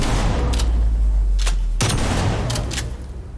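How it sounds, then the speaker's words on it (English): Shotgun fire in a Call of Duty gunfight match: several sharp, loud blasts at irregular intervals over a deep rumbling background. "As that shotgun comes into play."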